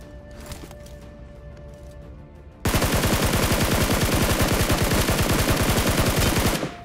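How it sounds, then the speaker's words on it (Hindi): Gunfire rings out in the BGMI mobile battle royale game. After quiet ambience, a loud, sustained automatic burst of rapid shots runs for about four seconds before cutting off. "तो यहाँ पे ना लेफ्ट साइड से मुझे यहाँ पे गन साउंड आ जाता है।"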